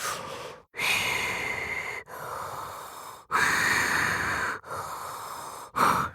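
A voice imitates the deep, slow breathing of a giant spider, with five long heavy breaths separated by brief pauses, loud and close with a hissing, snorting texture.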